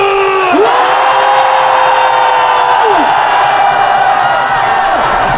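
A large outdoor rally crowd against a presidential impeachment at Dongdaegu Station plaza in Daegu roars and shouts in unison, a loud, dense, sustained cheer with piercing whistles rising over it.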